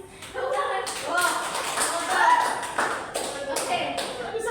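A school class in a modern poetry lesson claps in bursts of rhythmic hand claps, close and fairly loud, mixed with several voices speaking and chanting together.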